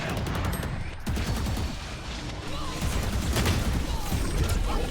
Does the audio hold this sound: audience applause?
no